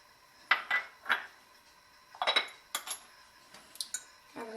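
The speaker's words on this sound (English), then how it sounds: "I'm going to finish whisking this up so it's a nice, smooth dressing" A whisk clinks and scrapes against a bowl while salad dressing for a quinoa spinach salad is mixed, several quick metallic strokes in short bursts, close and fairly quiet, with no talking.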